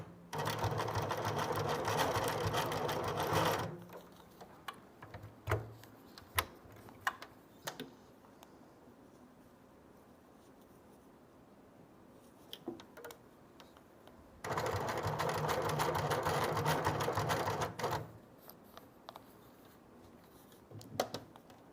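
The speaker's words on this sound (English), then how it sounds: "on this machine is a straight stitch, so you want to follow the edge of your peel as close as you can get it" A sewing machine straight-stitches along the edge of an orange peel quilt piece, two loud steady whirring runs of several seconds each separated by quiet handling and small ticks, no talk.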